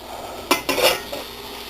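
Chopped sausage tipped into a pot of Cajun butter beans, giving a couple of close clattering knocks and scrapes of metal and utensil against the pot, then a softer clink, with no talk.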